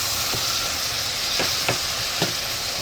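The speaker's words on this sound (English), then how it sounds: "onions, mushrooms, carrots, and broccoli. I'm doing like a slight fry to them" Onions, mushrooms, carrots and broccoli fry lightly in a pan with a steady, close hiss of sizzling. A few soft stirring clicks sound over it, and nobody speaks.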